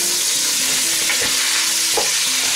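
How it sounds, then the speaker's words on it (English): Meat hits a very hot pot of oil while searing for a British steak pie, giving a loud, continuous crackling sizzle throughout, with no voices. "And you'll hear that sizzle as it hits."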